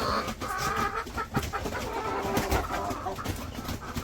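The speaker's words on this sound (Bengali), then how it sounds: "এই যে মুরগি" Village hens clucking in a row near a rural coop, repeated close cackles and calls overlapping in a lively cluster, no talk.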